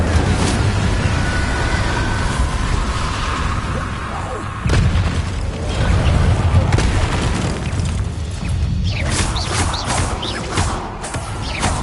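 Fiery spell blasts of the Incendio charm in Hogwarts Legacy, loud booming bursts over a continuous rumble of combat, repeated across the span amid other spell effects.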